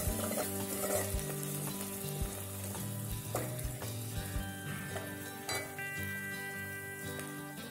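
Eel fish frying in a pan with lemongrass, a strong continuous sizzle with occasional clinks of a utensil against the pan, while tonal music plays underneath.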